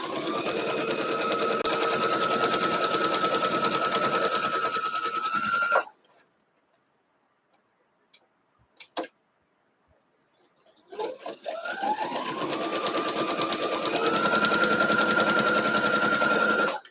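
A sewing machine stitching a Ducks & Ducklings quilt block runs loud and steady, stops for about five seconds with a few faint clicks, then starts up again and hums on at full speed.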